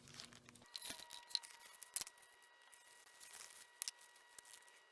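A plastic bag crinkling and rustling in short, quiet bursts with a few sharper crackles, handled close by as calcium chloride and sodium bicarbonate are added, with no talking.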